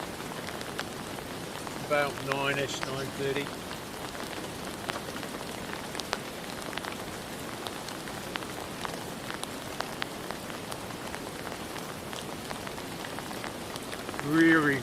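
Steady rain falls on a tarp shelter at an urban camp in London, a dense continuous patter of drops close by, with someone briefly speaking over it.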